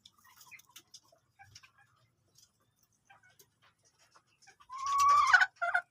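Chinese Silkie and Shamo Asil chickens in a small backyard coop: scattered faint clucks and ticks, then a loud close crowing or squawking burst near the end.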